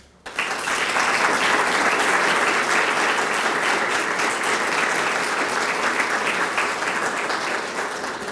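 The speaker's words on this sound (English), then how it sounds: "I'd like all of you to join me in a round of applause" Sustained audience applause for an associate dean of international programs at a United Nations anniversary keynote event, a dense steady clapping that starts abruptly and holds loud for several seconds before easing slightly.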